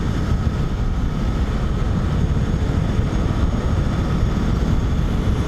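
A 2020 Yamaha Tracer 900 GT motorcycle in riding mode A with traction control off, its engine droning loud and steady under heavy acceleration for a wheelie, with strong wind rush throughout.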